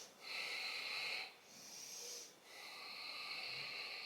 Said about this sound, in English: it's a breathing called Ujjayi breathing, and this is through the nose